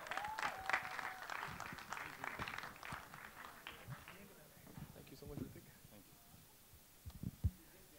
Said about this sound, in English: A huge round of applause for the extremely dapper-looking Hrithik Roshan.